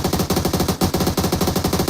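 Rapid automatic gunfire from a multiplayer video game rattles in steady, dense bursts, loud and continuous, with a brief dip partway through.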